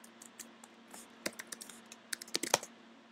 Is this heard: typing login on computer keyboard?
yes